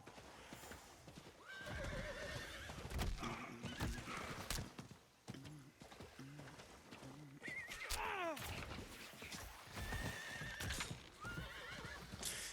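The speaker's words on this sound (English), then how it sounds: "Horsey could jump that one." A horse in Diablo 4 neighs and whinnies repeatedly while its hooves clip-clop along, the loud drawn-out whinnies rising over steady hoofbeats close by.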